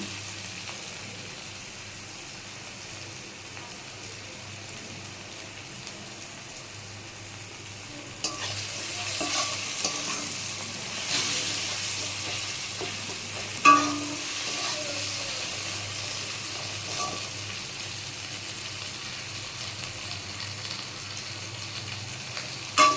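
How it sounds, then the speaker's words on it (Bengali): Spices, tomatoes and onions fry in a pan for a soybean curry, a soft steady sizzle that grows louder once spatula stirring begins, with occasional scrapes and knocks against the pan. "মশলাটাও একটু ভাজা হয়ে যাবে আর টমেটোগুলো নরম হয়ে যাবে একটু নাড়াচাড়া করে নিই"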